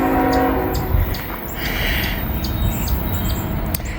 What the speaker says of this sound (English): We got a train coming.